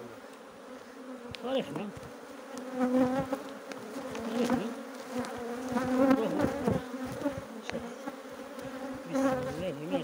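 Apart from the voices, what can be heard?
honeybees buzzing at an opened hive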